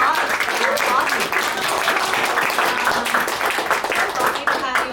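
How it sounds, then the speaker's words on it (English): A room full of Zine Fest attendees claps warmly after a panel on zine culture and collections, producing dense, even applause that holds steady for several seconds. "Let's give a warm round of applause for our awesome"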